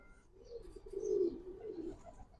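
Giribaz pigeons give a soft, low rolling coo that rises and falls over about two seconds, close but quiet, with faint background rustle.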